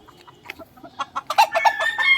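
Young yellow-legged game cockerels, about five months old, cluck in short, quick calls that grow louder and more frequent, ending in a busy burst of fowl vocalizations close by.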